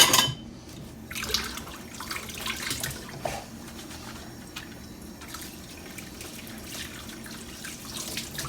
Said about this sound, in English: I'm gonna go ahead and give my hands a quick wash